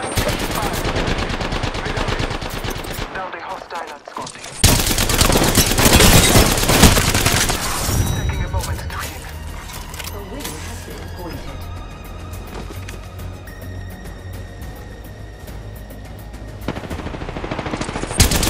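Rapid automatic gunfire bursts in the Apex Legends battle royale game, loud and close, with machine-gun rattles, single shots and game sound effects, while in-game character voices speak between the volleys.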